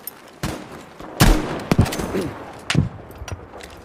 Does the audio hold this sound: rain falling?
no